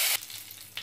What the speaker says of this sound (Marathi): ह्यामध्ये मी थोडा कढीपत्ता घालते।